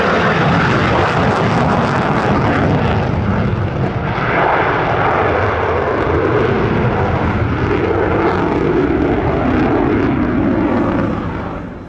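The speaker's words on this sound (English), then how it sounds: "It's the F-35." An F-35 fighter jet flying a display at the Wings Over Illawarra 2022 airshow, with a loud, sustained engine roar that holds steady throughout before easing at the very end.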